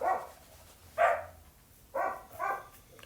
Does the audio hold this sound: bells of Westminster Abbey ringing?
no